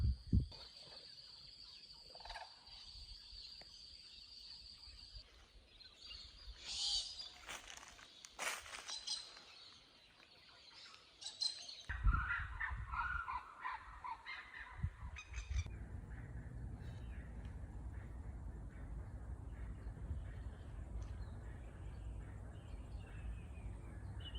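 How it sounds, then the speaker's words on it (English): Brolga cranes call in morning grassland on Australia's Cape York Peninsula, a few loud trumpeting bursts in the middle, while footsteps move through the grass and a steady outdoor background continues. "Got couple of brolgas."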